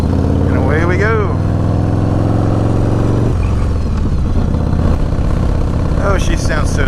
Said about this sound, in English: She don't rev as high as a Sportster, but she gets there.